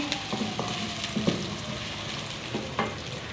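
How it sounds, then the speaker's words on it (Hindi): Steady crackling sizzle of onions frying in hot oil, with occasional scrapes and clinks of stirring, close and moderately loud. "अब हम ऐड करेंगे अपनी प्याज और लाइट ब्राउन करेंगे।"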